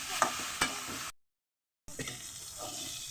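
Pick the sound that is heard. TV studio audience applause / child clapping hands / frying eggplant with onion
frying eggplant with onion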